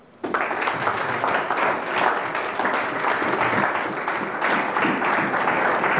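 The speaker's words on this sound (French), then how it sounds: "Suivez, acclamons d'abord ça." A congregation at a French-language church service led by a bishop breaks into sustained applause, a thick, even roar of many hands that starts abruptly and continues strongly for several seconds.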